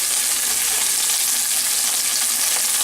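A steak sizzles loudly and steadily in the thickest, heaviest hot pan, a dense broadband frying hiss that holds without a break and carries no talk.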